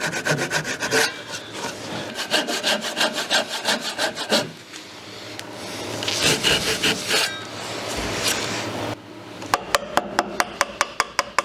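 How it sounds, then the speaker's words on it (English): A handsaw cuts notches in walnut for a rustic lamp build, producing repeated rasping strokes with steady rhythm, close and fairly loud, with no talking. "Some more sawing, cutting and chopping with the chisel."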